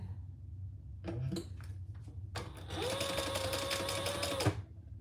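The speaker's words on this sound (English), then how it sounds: "So we're just gonna sew around. I'm using purple variegated thread." A sewing machine sews around a bag in purple variegated thread, a couple of short bursts followed by a loud, steady run of rapid stitching, close up and without talk.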